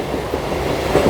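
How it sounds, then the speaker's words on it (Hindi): Nagpur express train rolling into a short mountain tunnel, a steady dense rumble of wheels and carriage noise that swells slightly near the end as the sound closes in. "टनल में अपनी ट्रेन एंट्री करने वाली है और यार टनल में एंट्री कर चुकी है अपनी ट्रेन"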